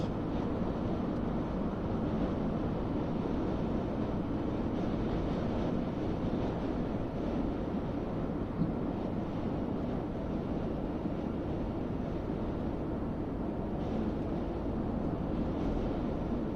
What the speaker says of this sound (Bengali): তো আজকে বাতাস বেশি